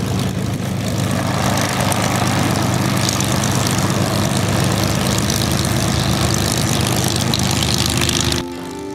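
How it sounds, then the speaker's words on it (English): A WW2-era propeller aircraft at a Classic Fighters Pacific air display roars loudly and steadily as it takes off, a constant droning engine that cuts back abruptly near the end. "the only thing remaining was for the aircraft to take to the skies"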